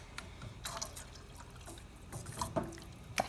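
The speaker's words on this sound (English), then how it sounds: "I'm going to go ahead and put another half quart in." Warm water pours from a tap or container into a soup pan in short, faint splashes and drips, close by and unaccompanied by talk.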